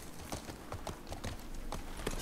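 Horse hooves clip-clopping at a steady riding gait in The Last of Us, a regular rhythm of hoof strikes at moderate volume with no talk over them.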